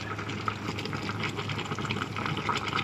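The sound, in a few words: chicken boiling in a rice cooker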